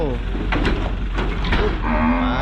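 Cattle moo loudly and close while being loaded onto a truck at a Thai livestock market, two overlapping drawn-out bellows with low rumbling background noise.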